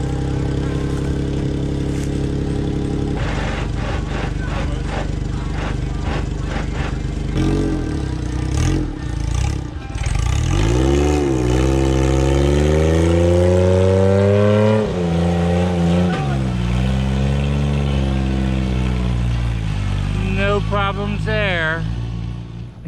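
An old life-size Tonka truck engine drives up to winch out a stuck monster truck, idling loudly and then revving up and down in rising and falling surges, with voices talking over it.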